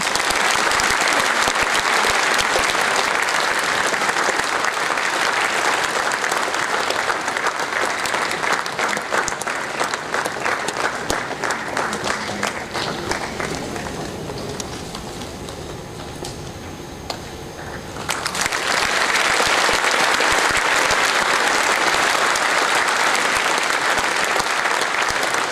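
An audience at an Indian Navy band performance gives a big round of applause, loud sustained clapping that thins and quiets in the middle before swelling again to full strength near the end.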